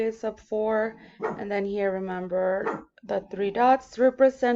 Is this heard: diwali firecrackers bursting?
no